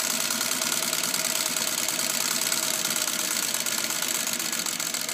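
A Singer 301A sewing machine stitches in reverse at a very short stitch length, making a loud, steady, fast mechanical whir and clatter that runs unbroken and close throughout, with no voices.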